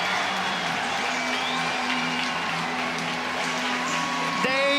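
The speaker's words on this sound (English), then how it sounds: "And that gets the crowd fired up." Fans at a Virginia home college lacrosse game against Maryland cheer loudly and keep up a dense, steady roar, with music blaring underneath and a commentator talking over it.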